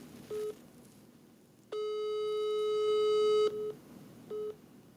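An outgoing telephone call hits a busy line: short steady tone bursts, one long sustained tone, then more short beeps, all thin and electronic against a quiet hiss.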